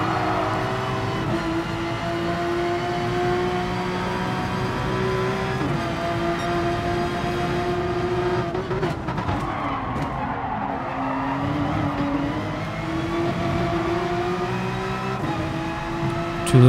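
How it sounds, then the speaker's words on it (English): Race car engines in Gran Turismo Sport, among them a Martini Porsche, roar in sustained high pitch through S-bends and corners, shifting and dipping as a car closes in and passes alongside, with tire scrub under the engine note. "Car's coming up fast behind me now after going through those S-bends."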